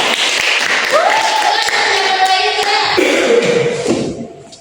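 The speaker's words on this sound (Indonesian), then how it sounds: "Tolong kasih tepuk tangannya dong" A class of students claps and applauds a classmate's answer during a lesson, a dense steady patter of hands that fades out at the end while voices talk over it.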